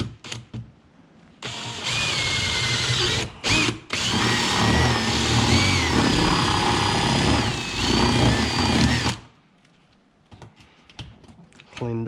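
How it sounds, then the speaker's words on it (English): A power drill bores a hole through a boat during a marine electronics gateway install, whining loudly and steadily for about seven seconds with slight pitch shifts as the bit cuts, then stopping abruptly. "let's drill a hole"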